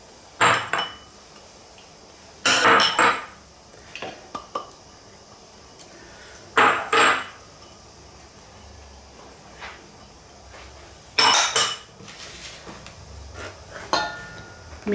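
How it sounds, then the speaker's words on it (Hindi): Chopped vegetables are mixed in a bowl, heard as several loud bursts of clattering, clinking and scraping with quiet pauses between them, close to the listener. "सबसे पहले हम वेजिटेबल को मिक्स कर लेते हैं अच्छा से।"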